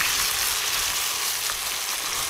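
Beef steak searing in hot oil and beef fat in a pan with thyme, a loud, dense, continuous sizzle close up with no talk.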